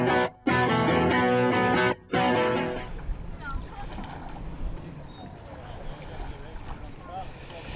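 Offshore Class 1 racing powerboat at sea, first heard as loud, steady engine roar broken by two short dropouts, then giving way to rushing wind and water noise.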